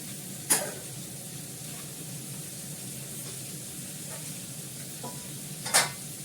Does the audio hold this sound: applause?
no